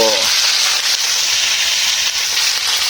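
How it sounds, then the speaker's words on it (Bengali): Coral fish frying on a wood-burning stove, a loud, continuous hissing sizzle close by with no break. "কোরাল মাছ ভাজা হচ্ছে আমরা এখন কোরাল মাছ খাবো"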